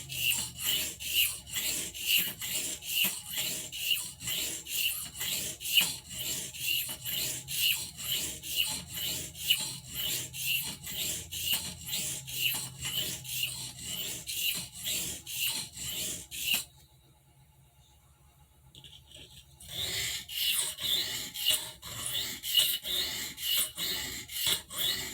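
A Barlow knife is drawn across oil stones in steady, evenly spaced rasping strokes, close and fairly loud. The strokes pause briefly for a couple of seconds, then resume at the same rhythm.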